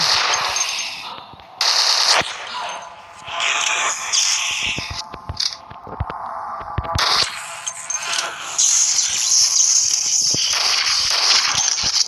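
Automatic weapons firing at zombies in a shooting video game: loud, rapid bursts of machine-gun fire in repeated runs with brief gaps, close and dominant throughout.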